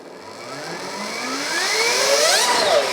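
A Stark Varg electric motocross bike set to 60 horsepower accelerates with a rising electric whine, the pitch sweeping steadily upward and growing louder over a few seconds, close by with no talk.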